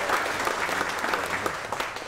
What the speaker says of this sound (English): round of applause for Nolene.